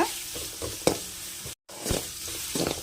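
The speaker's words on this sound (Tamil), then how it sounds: "இப்போ வெங்காயம் இன்னும் கொஞ்சம் வதங்கட்டும்" Steady sizzling of onions frying in oil, with a few stirring scrapes and clinks, one brief silent gap midway.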